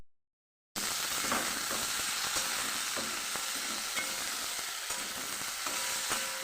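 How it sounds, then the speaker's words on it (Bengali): Slices of aubergine, pointed gourd and potato fry together in hot oil, a dense, steady sizzle that starts abruptly after a brief silence and runs on with faint crackles and small stirring knocks, no talking. "এই যে তিন রকমের ভাজা বেগুন ভাজা পটল ভাজা আর আলু ভাজা বসিয়ে দিয়েছি"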